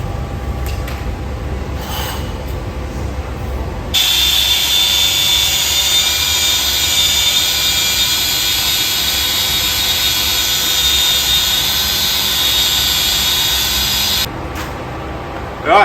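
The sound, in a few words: wire wheel tidying weld runs on CAT 336D2L dipper arm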